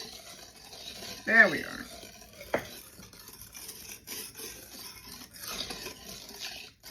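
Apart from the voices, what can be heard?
gently stirring milk into chocolate pie filling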